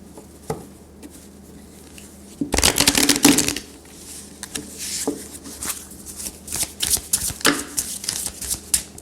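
Oracle cards are shuffled close up in a loud riffling burst, followed by a string of soft taps and flicks as the cards are handled and drawn.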